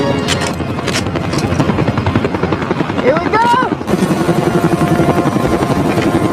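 A helicopter lands at night in a dark desert, its rotor chopping loudly and steadily up close throughout, while voices call out over the engine noise.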